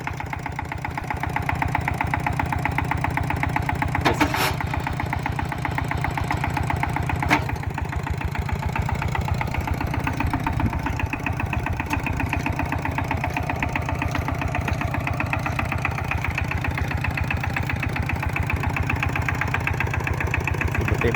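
A vehicle engine runs steadily at a mid-pitched rumble with a rhythmic knocking pulse, close and loud, as it accelerates and shifts into second gear. A couple of faint clanks sound early on.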